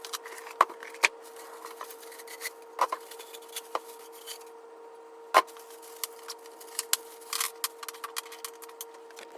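Unboxing a no-name aftermarket exhaust header for a 1990–93 Acura Integra: scattered light cardboard and packaging taps and rustles over a steady hum, close and quiet.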